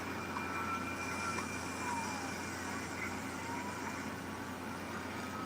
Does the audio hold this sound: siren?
yes